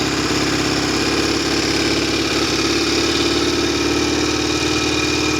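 A Norton Commando 750 motorcycle engine, troubled by a tickover fault, idles steadily up close with a continuous low mechanical throb and rattle, loud and unbroken throughout.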